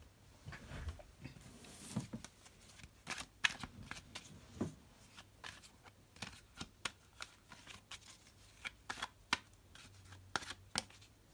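Tarot cards being shuffled by hand, a steady run of crisp riffling snaps and soft slides close up, with no voices, in a quiet room.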